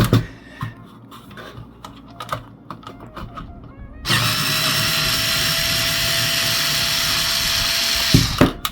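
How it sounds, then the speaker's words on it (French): A power drill unscrews the ballast from a Thorn fluorescent light fitting, running as one loud, steady whine for about four seconds after some quieter handling clicks, then cutting off sharply. "on va dévisser le ballast déjà pour commencer."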